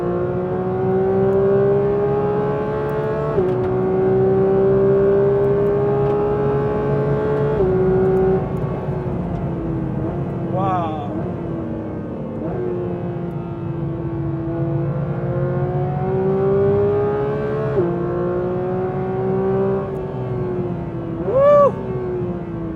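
A new Porsche 911 GT3 engine accelerating hard down a straight, loud and close, with repeated rising wails through the gears, brief drops at each shift, and a sharp blip near the end.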